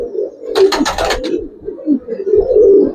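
Pigeons coo repeatedly in a loft, soft low throaty calls close by, with a brief burst of fluttering or rustling in the middle and faint voices in the background.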